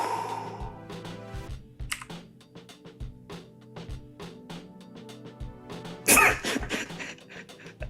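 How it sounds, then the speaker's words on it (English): Quick, uneven keystrokes tap on a computer keyboard, close and fairly quiet, in irregular bursts with a sharper clack near the end and a low background hum. "Is he still typing?"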